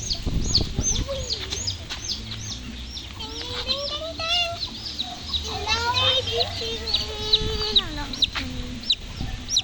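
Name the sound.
baby chickens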